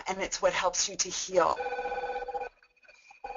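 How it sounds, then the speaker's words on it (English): A mobile phone rings with a steady electronic tone that starts as a person finishes talking, sounds alone, pauses briefly, then resumes. "Sorry about my phone."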